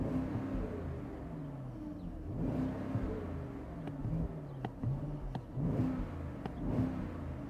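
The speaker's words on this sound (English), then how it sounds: "Well, listen to the sound. Yeah, exhaust on, exhaust off, comfortable ride." A Mercedes-Maybach SL 680 V8 accelerates in comfort mode, giving a low, rumbling, steady engine note that swells and eases over several seconds without any sharp exhaust bark.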